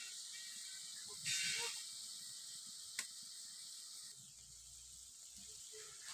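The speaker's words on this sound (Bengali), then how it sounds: "এবার একসাথে আমি সব মশলাগুলোকে ভালো করে কষিয়ে নিচ্ছি।" Spice paste for a vegetarian banana-flower curry fries in a pan over a high flame, giving a steady, quiet sizzle throughout with a few small pops.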